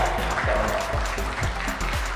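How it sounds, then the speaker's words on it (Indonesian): A short stretch of crowd clapping, loud and dense, with a few faint voices mixed in. "Tepuk tangan buat semuanya"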